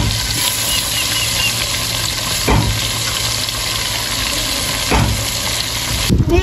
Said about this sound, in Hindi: वीवर मैंने आधी मच्छी फ्राई कर लिया,